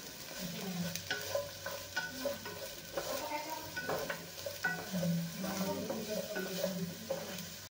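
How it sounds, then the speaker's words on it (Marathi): Onions being fried and stirred in a pan for a dhaba-style malai paneer, a steady close sizzle broken by repeated scraping stirs throughout, no talking. "कांदा चांगला आपल्याला थोडासा लाल होईपर्यंत, कांदा मऊ होईपर्यंत भाजून घ्यायचा आहे"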